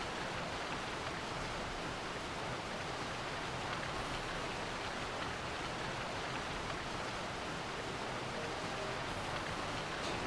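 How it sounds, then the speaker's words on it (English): Steady rain falls in the video game Final Fantasy XII, a dense, even hiss that holds at a constant level from start to finish with no voices over it. "The more rain, the better."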